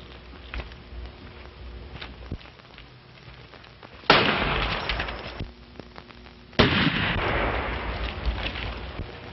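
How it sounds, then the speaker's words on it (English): Two sharp gunshots ring out from behind rocks in a 1933 western film, each a loud crack trailing into a hissy noisy decay over a thin, muffled old soundtrack. "The shot came from back of those rocks."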